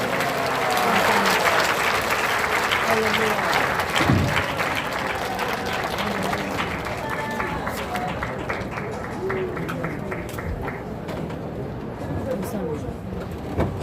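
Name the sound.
congregation applause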